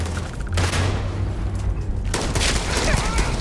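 Explosions and gunfire in the video game Starfield: dense, loud blasts and bursts of fire fill the whole stretch with barely a pause, a sharp renewed burst coming near the end.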